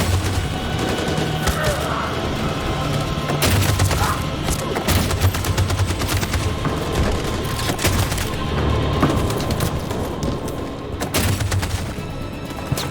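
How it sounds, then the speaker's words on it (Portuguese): Machine gun firing in the video game Detroit: Become Human, with dense continuous automatic fire and booming impacts in a battle scene, loud throughout with heavy bursts and occasional faint voices underneath. "A metralhadora tá atirando em tudo que aparece!"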